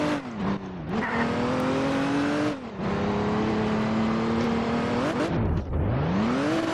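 Car engine in a Halloween horror video game, loud and continuous, revving up and dropping repeatedly as gears shift, with whirring and a brief tire-squeal-like sweep, no talk.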